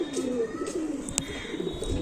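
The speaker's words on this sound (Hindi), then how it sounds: "बड़े लेवल के कबूतर हैं शाहजहांपुरी" Soft, low cooing of Shahjahanpuri pigeons close by, steady and continuous over a light background hiss.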